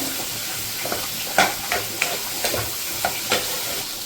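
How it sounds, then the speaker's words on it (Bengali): Fried soya chunks are stirred in a frying pan with butter and chilli, a steady sizzle broken by several soft scraping strokes of the spatula, close and without talk. "এখানটাতে ভেজে রাখা সবলগুলো এর মধ্যে দিয়ে আবারও এইভাবে হালকা হাতে নাড়াচাড়া করে নিতে হবে 2 মিনিট।"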